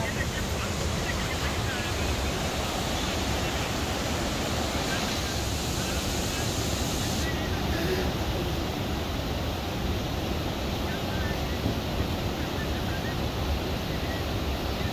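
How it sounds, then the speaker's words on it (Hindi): Strong river current rushing beneath a temporary bridge on a high mountain trek, a constant loud broadband roar of water mixed with wind buffeting the microphone for the whole stretch. "नीचे पानी का फ्लो काफ़ी ज़्यादा है"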